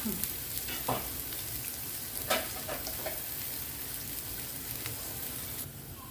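Onion and garlic frying in a small amount of oil, a steady soft sizzle with a few brief stirring scrapes, close by and moderately loud.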